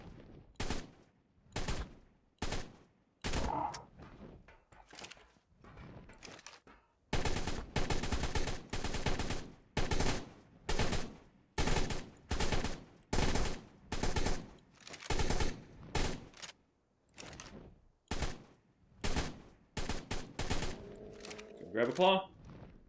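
Gunfire in the video game ARK: Survival Evolved: a long run of loud, evenly spaced shots with brief pauses between them. A burst of game noise and a voice come in near the end.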